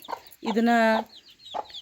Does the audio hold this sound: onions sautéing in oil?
no